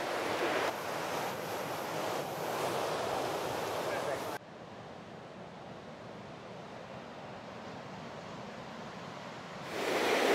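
Waves at a sheltered beach in Noosa National Park, protected by a headland, wash in with a steady, broad rushing surf, blended with wind noise that drops and then rises again.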